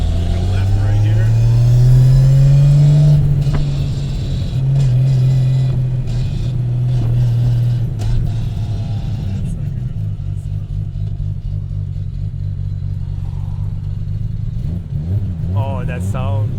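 A straight-piped 750 hp Nissan R32 Skyline GT-R with a sequential gearbox rumbles loudly close by, revving up and dropping through downshifts, with voices speaking over it.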